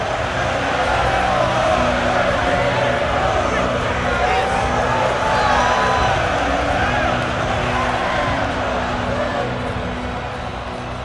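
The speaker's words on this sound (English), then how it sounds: "Conor McGregor, ready to make a statement in front of this capacity crowd here tonight." A capacity arena crowd roars steadily in an EA UFC video game welterweight championship main event, Conor McGregor versus Georges St-Pierre at T-Mobile Arena. The dense cheering holds throughout, with an announcer talking over it.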